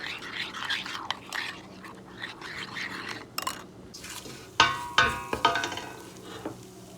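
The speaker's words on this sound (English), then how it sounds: "I have to stir it so that it will not curdle." Cream of mushroom powder is stirred into water with a utensil, producing soft swishing and a few sharper clinks against the pot or bowl, fairly close and moderately quiet, with faint voice-like murmurs in between.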